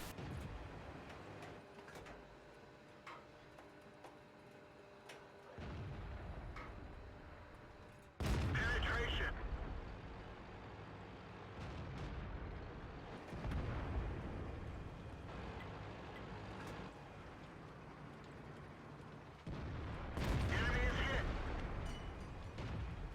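AMX 30 tank gun firing in World of Tanks, with loud booming shots at irregular intervals over steady battle noise and ongoing commentary.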